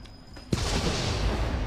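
Explosion in the Resident Evil 7 video game, a sudden sharp blast followed by a sustained loud rumbling roar of debris, heard without talk.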